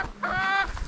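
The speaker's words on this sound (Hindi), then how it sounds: "ये है कड़कनाथ मुर्गा" A Kadaknath chicken clucking close by, a short run of nasal, harmonic clucks that fills most of the second, with no voices over it.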